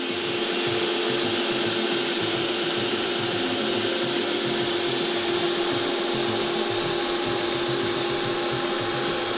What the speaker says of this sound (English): It's important to leave the vacuum on until later.